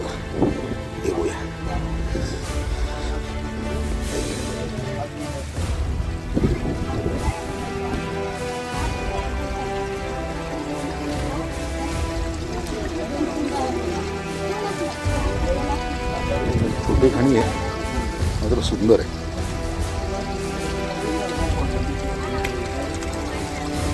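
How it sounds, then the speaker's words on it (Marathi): Steady rain falls throughout at a hill fort in the Sahyadri near Nashik, a dense wash of drops on surfaces with a low rumble underneath, and a voice speaks briefly partway through. "आणि पाऊस चालू झाला"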